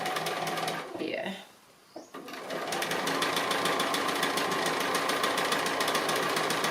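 A sewing machine stitching appliqué round a shape, its fast steady whirring rattle running close and loud after a brief pause near the start, with a voice talking over it.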